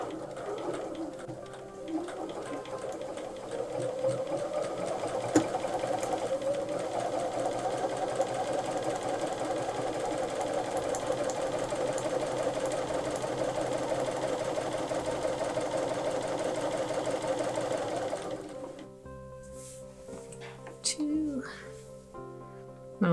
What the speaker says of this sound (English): now I'm ready to sew the very first row together